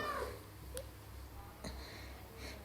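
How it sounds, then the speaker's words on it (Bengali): A domestic cat meows a few times, short faint calls spaced across a quiet indoor room with low background hum. "খালি চব্বিশ ঘন্টা ম্যাও ম্যাও"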